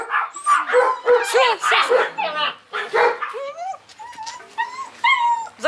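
A small spitz and a German shepherd bark and yip excitedly up close in rapid, overlapping bursts, with some whimpering, while a person speaks briefly among the barks.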